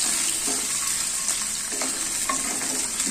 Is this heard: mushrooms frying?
yes